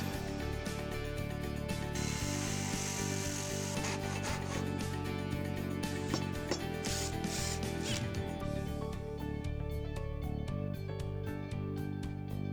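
A power saw cutting through Western Red Cedar for a modern dining table, a continuous loud rasping, grinding cut that runs steadily from start to finish.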